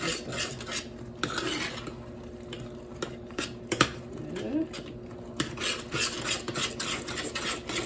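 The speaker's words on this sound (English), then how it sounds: "Then I stir the pepper sauce." Pepper sauce with a spoonful of tomato paste stirred in a pot for a Liberian dish, a steady scraping and rubbing of a spoon against the pan with light clinks, close and continuous.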